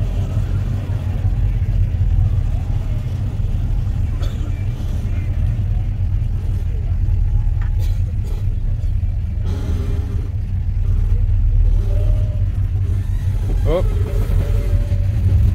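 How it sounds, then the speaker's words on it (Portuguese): Classic cars at an outdoor meet in Humberto de Campos, Sorocaba, give off a steady loud engine rumble with occasional revs. People talk over the noise. "Olha os carros."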